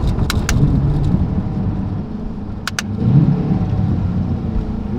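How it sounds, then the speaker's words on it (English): A Corvette C8 engine idling and rising in brief revs as gears are shifted with a paddle shifter, recorded from inside the car, with a couple of sharp clicks from the shifter. "Ooh, downshift to first gear,"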